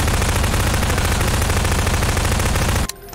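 Rapid automatic gunfire in Garry's Mod blasts loud and continuous in a tight rhythmic burst, then cuts off abruptly near the end.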